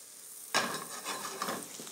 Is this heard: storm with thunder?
no